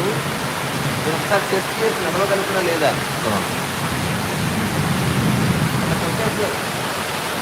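Floodwater rushes with a loud, steady broadband roar through a flooded street in Malakpet, continuous for the whole stretch, while someone talks over it.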